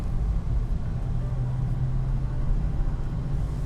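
A 2014 Chevrolet Camaro Z28 with an LS7 V8 cruises along, giving a steady, loud low engine rumble and road drone without pause from start to finish.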